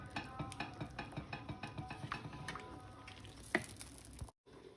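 Chicken and asparagus being stirred through a cooking cream sauce in a pan, giving a steady run of soft scraping strokes with light clinks and a faint simmer, close and fairly quiet, with a sharper knock near the end.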